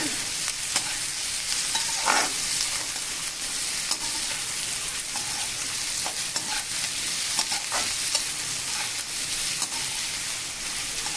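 Beans, carrot and capsicum stir-fried in a pan for fried rice, with steady broadband sizzling and repeated scraping strokes of a spatula, no voices.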